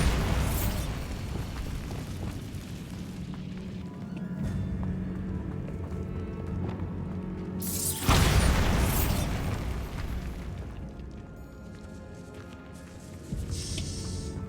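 A spell explosion in a video game booms out in two heavy blasts about eight seconds apart. Each hits loud and close, then rumbles away under a continuous low backdrop.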